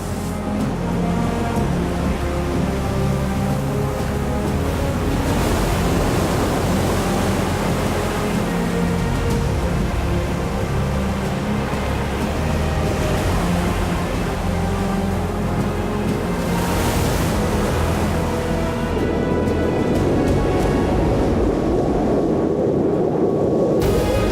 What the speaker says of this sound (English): The air is raw, the wind howls, and the ocean rages.